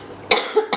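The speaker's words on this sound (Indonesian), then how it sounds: "Aduh, lagi batuk nih." A single sharp cough bursts out close by after a moment of quiet, followed by a couple of smaller rough catches of breath, with no talking.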